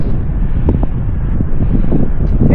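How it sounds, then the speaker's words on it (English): Gusty wind at sea around 15 miles an hour, roaring steadily and loudly across the microphone with rumbling buffets and no voices. "I think the wind's about 15 miles an hour at the minute. So it's a little bit gusty"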